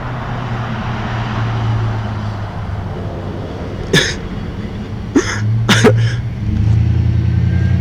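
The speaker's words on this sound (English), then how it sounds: "I find it funny how mad I am at the cars going home." Cars drive past outside a house as a low rumble that swells toward the end, while someone nearby coughs and clears their throat a few times.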